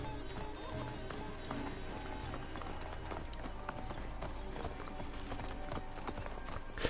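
Rapid, steady hoofbeats of a galloping horse in the video game Assassin's Creed Origins, under dense, continuous game background sound and music, the clatter running throughout.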